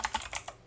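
Quick keystrokes on a computer keyboard while entering terminal commands, about five crisp close clicks in under a second.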